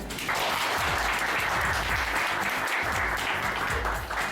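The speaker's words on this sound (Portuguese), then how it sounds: "uma salva de palmas para o Edson." A burst of loud, enthusiastic clapping from a group, dense and sustained throughout.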